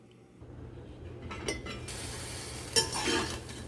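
Beetroot stems sautéing in oil for sambar, a soft sizzle that swells as a utensil stirs and clinks against the pan in a few short bursts, fairly faint and close, without talking.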